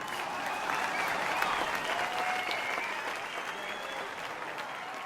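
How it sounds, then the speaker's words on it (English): Steady applause from a crowd, sustained and even throughout, heard at moderate distance without a break. "So let's hear a round of applause for Mila."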